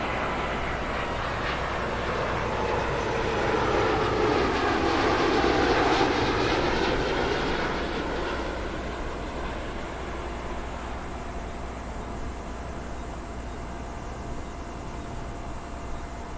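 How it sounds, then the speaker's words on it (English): A SriLankan Airlines Airbus A330-300 from Colombo lands on runway 09 left at Heathrow, its broad engine roar swelling as it passes close by, then easing to a steady, softer rumble. "Time now for the Sri Lankan A330-300 in from Colombo."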